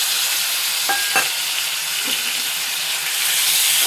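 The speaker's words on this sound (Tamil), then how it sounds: "பச்சை வாசம் போகிற அளவுக்கு இஞ்சி பூண்டு பேஸ்ட்டு வதக்கணும்" Steady, loud sizzling of ginger garlic paste frying in hot oil, with a couple of brief clinks of a spoon early on.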